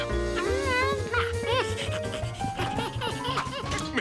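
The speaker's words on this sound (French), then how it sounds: "C'était un chien." Cartoon dog barking and yipping in an animated children's show, short excited barks over bright background music.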